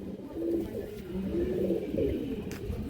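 Chennai pigeons in a Behala loft, several low rolling coos repeating near and moderately quiet, with no voices.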